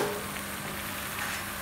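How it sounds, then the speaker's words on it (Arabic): Chopped onion frying in melted butter in a pan, a steady soft sizzle with faint crackle throughout, fairly quiet and without talk. "نقلي البصل تقلى"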